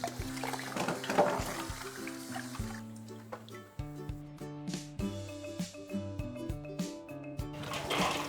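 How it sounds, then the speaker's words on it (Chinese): Fresh snow pears are rinsed in clean water, with steady splashing, trickling and dripping close by over soft background music. "再用清水给它过上2遍"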